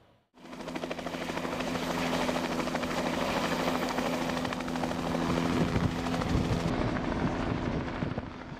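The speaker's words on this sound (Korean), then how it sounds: "오전 내내 분주한 헬기." A helicopter working over Arctic sea ice near a research icebreaker: a steady, loud rotor thump and turbine roar that starts abruptly and continues unbroken, close by, with no talk.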